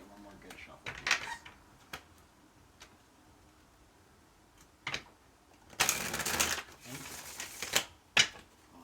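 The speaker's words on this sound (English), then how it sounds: "Can I get one more good shuffle" Tarot cards being shuffled by hand, with scattered light riffles and flicks early on and a louder, longer burst of shuffling near the end, with speech in between.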